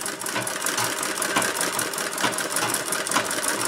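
A Singer 28K sewing machine driven by a treadle runs continuously with a busy, rhythmic mechanical clatter and steady ticking, close and fairly loud with no voices.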